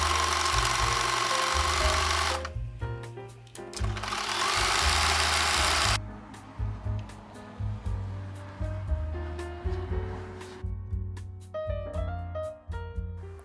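An overlock serger stitching front and back pieces of shorts together, its fast motor whirring in bursts that stop and restart, with clicks and handling noises between runs and no voices.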